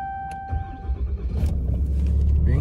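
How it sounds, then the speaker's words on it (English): A 2021 Ram 3500 Bighorn diesel pickup cranks after a preheat chime and catches, settling into a loud, steady low rumbling idle close to the listener. "Right away, let's start her up. Got the diesel preheat going here."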